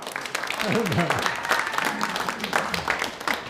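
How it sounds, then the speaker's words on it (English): A theatre audience applauds steadily at a celebration honouring Andrzej Wirth, the dense clapping continuous and fairly loud, with voices rising over it. "there's a big applause"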